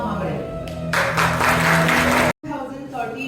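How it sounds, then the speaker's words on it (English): An audience at a school event claps for a company secretary, a burst of applause swelling over a musical backdrop, cutting off abruptly, then music and talk resuming. "Give a round of applause to company secretary Pratika Mamre."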